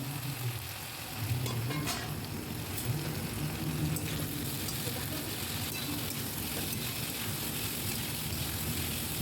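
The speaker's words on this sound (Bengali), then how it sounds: "কচুটাও খুব ভালো করে ভেজে নিতে হবে" Taro pieces fry in oil under a lid, giving a continuous, moderately loud sizzle with scattered small crackles and pops throughout.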